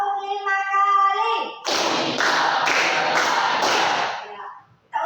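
A run of sharp, close hand claps counted off in a lively classroom routine, with voices chanting just before and the claps ending abruptly.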